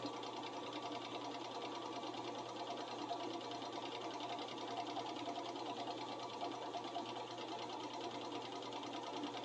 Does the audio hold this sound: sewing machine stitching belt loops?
yes